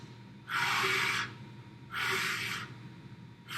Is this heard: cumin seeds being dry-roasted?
no